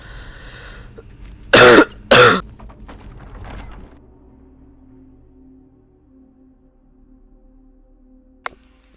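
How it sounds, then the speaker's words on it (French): Two loud, harsh coughs close to the microphone in quick succession, followed by a quiet hum and a single faint click. "Bon, c'est bon, j'ai bien toussé."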